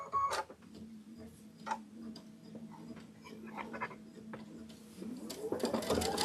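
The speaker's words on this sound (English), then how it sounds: "now I'm just going to hit start and let it do the quilting" A sewing machine quilting a Kimberbell ladder quilt hums steadily at a moderate level, with soft ticks and clicks mixed in, before a brief louder burst of mechanical noise at the end.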